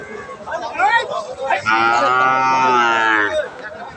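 Cows and calves at a crowded cattle market moo, with short calls followed by a long, loud, close bellow that rises and falls, while murmuring voices and crowd chatter sit faintly in the background.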